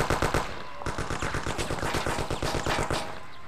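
A Thompson submachine gun fires in long, rapid automatic bursts in the video game Mafia, loud and close, with steady rattling shots and a brief break partway through.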